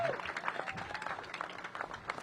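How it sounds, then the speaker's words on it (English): An audience at a mayoral press announcement gives a round of applause, faint and distant, a soft patter of clapping lasting a couple of seconds. "I think that bears another round of applause"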